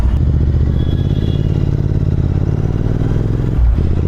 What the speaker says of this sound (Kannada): ಕೋಲ್ಡ್ ಸ್ಟಾರ್ಟ್ ಮಾಡಿ ಬಿಡೋಣ ಗಾಡಿ ವಾಮಪ್ ಎಲ್ಲ ಆಗಿದೆ